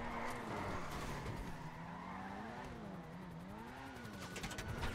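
A fast car in GTA 5 Online, a Dewbauchee Champion, races along with its engine wailing and wavering, tire squeal mixed in, and a voice talking over the steady loud game sound.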